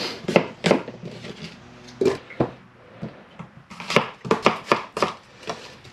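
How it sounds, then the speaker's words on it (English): A knife chops apples on a cutting board for spiced cider in quick, irregular bursts of sharp thuds with short pauses between, close and fairly clear, with no talking. "The smaller you cut them, I find the faster they'll cook and the better it will go."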